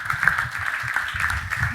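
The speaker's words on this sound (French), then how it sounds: "Merci beaucoup, on vous applaudit." An audience applauds after a startup pitch at a Paris pitch competition, a steady patter of clapping filling the moment with faint background murmur.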